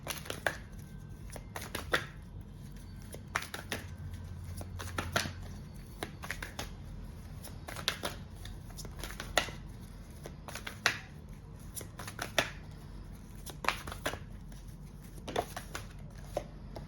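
Tarot cards being shuffled by hand during a reading, quiet papery riffles and sharp flicks repeating irregularly, close and soft with no talk.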